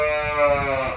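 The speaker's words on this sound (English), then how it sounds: "And there's a goat as well." A goat on a farm gives one loud, close, wavering bleat lasting about a second, heard on its own.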